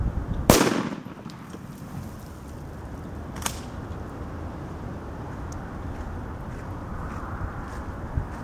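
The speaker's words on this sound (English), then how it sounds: "I'm going to now shoot at the body with this" 12 gauge shotgun loaded with buckshot fired outdoors at a lightsaber target, one loud sharp blast right at the start, then a fainter crack a few seconds later over steady wind and ambient noise.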